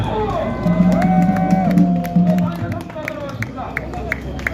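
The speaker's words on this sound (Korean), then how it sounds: "박수!" An outdoor political rally crowd cheers and claps after thanking police, with loud voices, whoops and a shout near the start, and scattered claps rising through the noise before it thins out.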